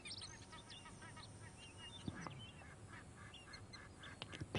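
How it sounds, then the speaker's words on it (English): Ducks calling in the video game Red Dead Redemption 2, with soft, scattered honking quacks over quiet outdoor ambience and a few louder calls toward the end. "I'm peeking at these ducks."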